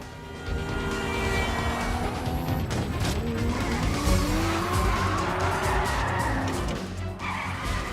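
A Chevelle and another car race side by side, with loud engine roar and shrill tire squeals and skids rising and falling over several seconds, close and intense throughout.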